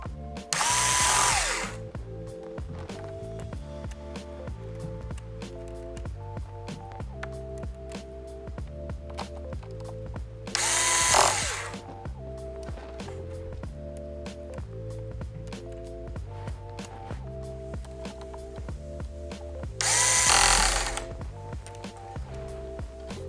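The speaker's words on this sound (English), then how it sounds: "And put the screws back in." A power screwdriver drives screws into the top cover of a Lenovo 100e Gen 3 Chromebook in three short whirring bursts spaced about ten seconds apart, over steady background music.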